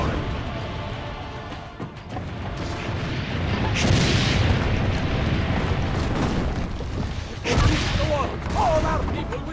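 Cannon fire and explosions in Assassin's Creed Brotherhood rumble in heavy, overlapping booms with a couple of louder blasts, under a game soundtrack while characters speak.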